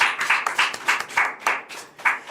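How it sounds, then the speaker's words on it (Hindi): A small gathering at a poetry recital claps in a loose, rhythmic pattern, bursts of hands beating roughly in time with short gaps between them, fairly close and clear with no speech over it. "ताली तो बजाओ मेरे यार"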